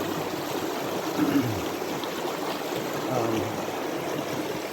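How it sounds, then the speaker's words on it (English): Swift white water rushing along North Sylamore Creek, a steady broadband roar of flowing water with no pauses, fairly close and unbroken throughout. "it's pretty swift right in there. White water, not shallow at all."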